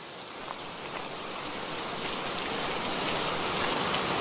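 Steady rain falls and patters on surfaces nearby, a dense, even hiss that swells slightly toward the end, with no voices.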